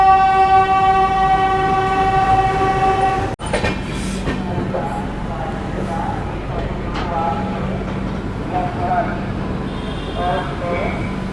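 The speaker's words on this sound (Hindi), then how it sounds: "क्रॉसिंग है, ट्रेन निकल रही है" A train on the Ganga Sutlej Express route in India passes a level crossing: a long sustained horn with strong harmonics opens, cuts off abruptly, then steady rolling wheel and carriage rumble with faint clatter continues close by.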